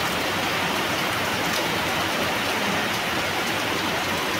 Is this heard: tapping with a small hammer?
no